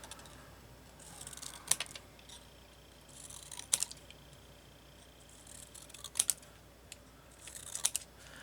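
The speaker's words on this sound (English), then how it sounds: "Cut 1-inch strips" Scissors cutting 1-inch Graphic 45 paper strips for journal work: four short crisp snipping bursts, spaced a couple of seconds apart, quiet and close over a faint background hiss.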